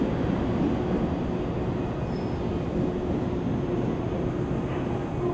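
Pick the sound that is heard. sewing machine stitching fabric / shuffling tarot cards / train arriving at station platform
train arriving at station platform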